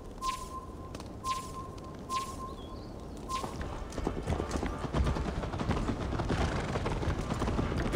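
Horse hooves clip-clop in Assassin's Creed Valhalla, a steady rhythmic patter that grows denser and louder over the second half, with short repeated tones and faint background ambience early on.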